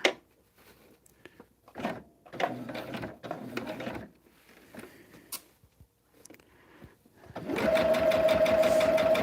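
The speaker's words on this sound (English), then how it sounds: "let's sew these together" Sewing machine stitching quilt pieces together for a Storm at Sea throw quilt, first in short separate bursts with handling clatter between, then a long steady loud run at the end.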